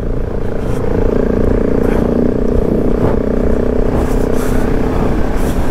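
A KTM 690 Enduro motorcycle rides across the Simpson Desert, its engine holding a steady, loud cruising drone close by with no hard revving and no voices.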